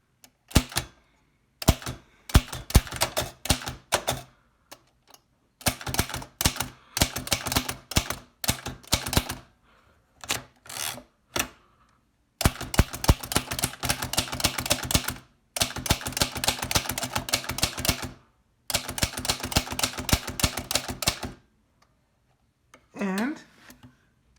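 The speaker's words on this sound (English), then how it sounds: "The Yost #4 typewriter." An 1895 Yost No. 4 typewriter types in rapid bursts of crisp key strikes, separated by short pauses, with a brief ringing sound near the end.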